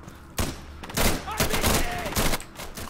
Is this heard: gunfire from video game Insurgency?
yes